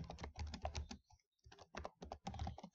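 Fingers type quickly on a computer keyboard, close and faint, in two bursts of rapid clicking with a short pause between them.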